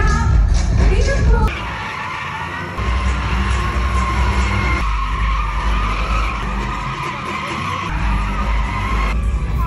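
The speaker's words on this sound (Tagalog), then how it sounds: "Ito yung mga nagliliparang motor at mga nagdidrift na sasakyan." Cars drift at an outdoor show in Dubai, with loud, sustained tyre skidding and squealing over revving engines. The noise shifts in level as each car slides past, and a crowd murmurs underneath.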